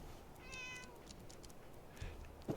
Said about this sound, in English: Here's their kitty cat.